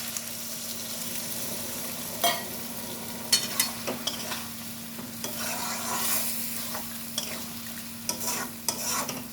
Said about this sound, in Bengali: এখন আমি এর মধ্যে দিয়ে দেবো সামান্য একটু পোস্তরই পাটা ধোয়া যে জলটা, সেই জল